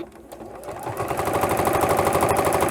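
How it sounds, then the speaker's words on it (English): Sewing machine stitching a seam on a fabric protective mask, a steady fast rapid-fire needle chatter that starts softly and builds to a constant loud whir, with no talking. "And then I slowly stitch that seam down."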